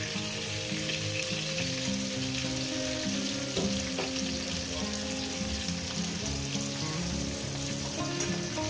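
Pointed gourd (potol) pieces frying in hot oil, a loud continuous close sizzle with occasional soft clinks and stirring, no voices.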